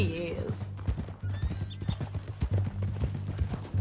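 Horse hooves clip-clop steadily in Red Dead Redemption 2, a rhythmic run of close, clear hoofbeats with a brief whinny near the start, while in-game characters talk over the riding.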